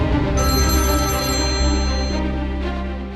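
Electronic telephone ringtone trills loud and close, a bright sustained tone pattern lasting about two seconds before fading into a softer repeat, with no talk over it.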